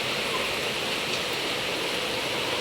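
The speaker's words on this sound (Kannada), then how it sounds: "ಮಳೆ ಶುರುವಾಗಿದೆ ನಮ್ಮೂರಲ್ಲಿ" Steady rain falls outdoors in a village garden, a dense even hiss of drops with no breaks, fairly loud and close, no voices.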